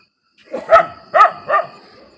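A dog barks three times in quick succession, close and fairly loud, with short sharp yapping barks and a brief pause between them.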